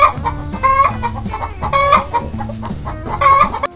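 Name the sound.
chicken clucking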